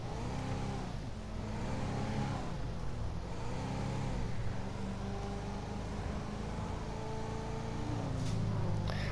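An old car driving in GTA V gives a steady engine drone that rises and falls with revving across the whole stretch, loud and continuous with no speech.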